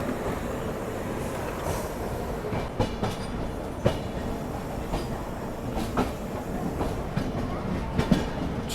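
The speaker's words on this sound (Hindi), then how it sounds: "यहाँ पर अपनी ट्रेन निकल रही है" New Delhi–Banaras Superfast Express running on rails: a steady, close rolling rumble with intermittent clickety-clack wheel beats over the joints, continuous throughout with no voices.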